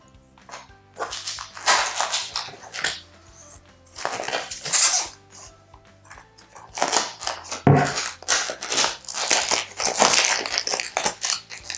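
Protective plastic film is peeled off a Google Nest Hub 7-inch display in several loud, crackling, crinkling bursts with short pauses between them, close up and with no talking.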